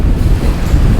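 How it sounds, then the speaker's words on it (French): Strong wind buffets the microphone at the seashore during sea fishing, a loud continuous low roar mixed with surf, with no voices. "il y a pas mal de vent"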